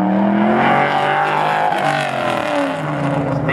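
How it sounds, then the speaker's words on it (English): A Detroit Speed pro-category race car runs an autocross course at a Goodguys event in Scottsdale, its engine loud and close with rising and falling revs as it powers through the course. "Stacy Tucker, another one of our pro category drivers, represent Detroit Speed from Mooresville, North Carolina, out on the course right now."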